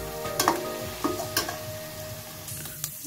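Fenugreek and jakhiya seeds hit hot oil in a kadhai after pakoras are fried, giving a steady close sizzle with a few sharp crackles and stirring clinks, no talk.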